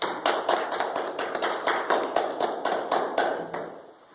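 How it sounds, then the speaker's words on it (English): Audience applause at a talk on living a balanced life, a modest group clapping in fairly regular beats, moderately close, fading toward the end. "Let's give them a round of applause."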